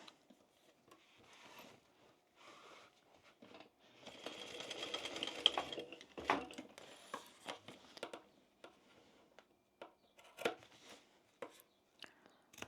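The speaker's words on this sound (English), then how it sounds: "And again, we're going to sew between the lines." A home sewing machine runs stitches along a tote bag seam, a soft rapid whir of a couple of seconds amid quieter fabric handling and scattered clicks.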